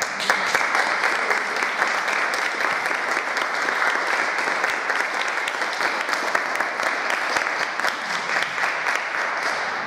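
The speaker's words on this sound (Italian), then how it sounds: "qui possiamo fare un applauso a Diego e ringraziare" An audience at an artist residency talk applauds the artist, a long, steady stretch of dense clapping that holds an even level throughout with no speech over it.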